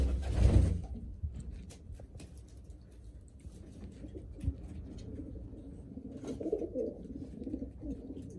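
A racing pigeon, a 2017 cock bird in a loft, gives soft, low, repeated cooing close by. Light shuffling, flapping and tapping sounds come through in the background.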